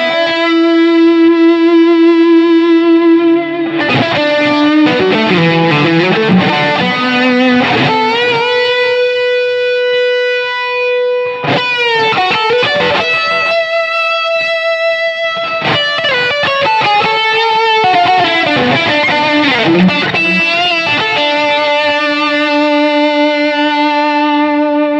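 A loud electric guitar through a Line 6 Helix plays smooth, compressed notes that ring out and sustain for long stretches, with gliding bends between phrases.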